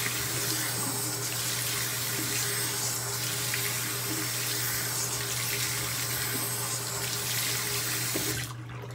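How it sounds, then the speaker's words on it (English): Tap water running steadily into a bathroom sink while a face is rinsed, a continuous close splashing hiss that cuts off at the very end. "so now that I've done that, I'm gonna rinse my face now"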